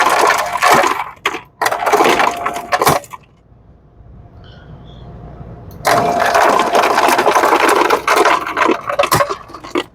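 A Lancer FS-30 ice dispenser whose chute has trouble shutting off drops ice into a bucket in loud clattering bursts that stop for a couple of seconds, then resume with noisy rattling and cracking.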